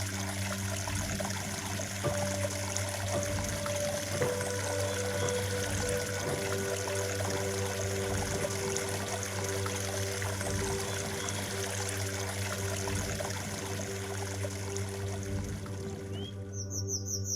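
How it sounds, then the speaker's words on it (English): A woodland stream trickles and gurgles through gaps in stones over a rocky bottom below a small rock breakwater, a steady close babble with faint birdsong above it. "The water scurries busily through the gaps in the stones over the rocky bottom."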